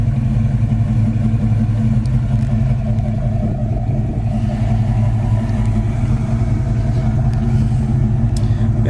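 A 1965 Ford Mustang GT idles steadily close by, with a deep, rumbling, even engine note that holds for the whole stretch and no talk over it.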